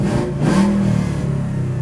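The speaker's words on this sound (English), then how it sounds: "Let's give her 1 or 2 revs." A 1968 Ford Mustang with a 5.0 Coyote V8 revs up with a rising roar, holding a steady mid-pitched drone afterward, loud and close with no talking.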